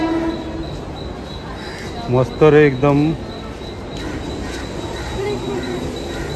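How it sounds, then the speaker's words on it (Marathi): A train rushes past close by with a loud rumbling roar, and a brief two-toned horn blares in short bursts midway; a voice is briefly heard. "ट्रेन जाईल अंगावरतून."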